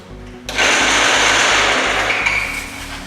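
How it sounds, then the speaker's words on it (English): Broken bandsaw in a home renovation workshop running with a faulty gear noise, a loud close rhythmic knocking clatter over a harsh mechanical whir that starts abruptly and continues steadily, no talking. "Not supposed to make that noise. The bandsaw broke."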